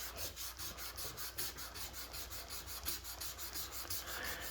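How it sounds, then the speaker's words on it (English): A 3M green abrasive pad rubbed back and forth across the metal of a Rolex Submariner watch, always in one direction, making a steady, close, rhythmic scratchy rasp with evenly spaced strokes throughout. "I rubbed the 3M green pad on it"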